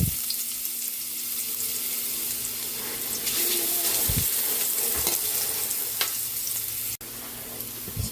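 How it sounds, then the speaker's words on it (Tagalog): Sliced ginger sautés in hot cooking oil for chicken tinola, making a steady, loud, dense sizzle throughout. A few soft knocks from a stirring utensil come through now and then. "Gigisa na po tayo para sa ating chicken tinola."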